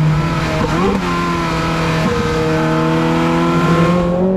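A Ferrari 430 Scuderia engine revs up loudly nearby, its rising whine climbing in pitch over a powerful, continuous roar.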